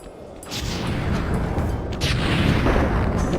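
A firework blast from the Flame Fu attack in the Sly 3 video game: a deep rumbling boom swells in after half a second and holds loud and dense throughout, with no voices.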